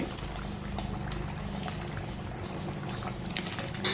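A garlic tamarind kuzhambu curry boils at a rolling simmer, giving a continuous close bubbling and liquid churning with small pops throughout, with no voices.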